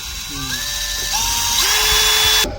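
Speed-sensitive power impact hammer driver running near and loud, its whine stepping up in pitch as the trigger is pressed further, then cutting off abruptly.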